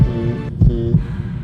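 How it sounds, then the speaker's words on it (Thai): A heartbeat sound effect gives two deep, muffled thumps in quick succession over a low, steady hum. "ถ้าคุณเข้าใกล้ฉันมากกว่านี้อีกนิดคุณจะได้ยินเสียงหัวใจฉัน"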